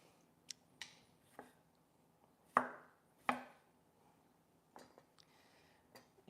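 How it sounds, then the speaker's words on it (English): A knife chops vegetables on a cutting board for breakfast tacos: a handful of quiet, sparse, irregular thuds and taps close by, with a couple of louder strikes. "whatever you do, you wanna make sure that you cut them all uniform to each other so that they cook evenly"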